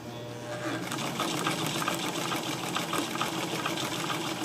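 A 1970s sewing machine runs a stretch stitch, a fast, steady mechanical chatter with a rapid rhythmic clatter that starts up and then continues at close range, with no talking.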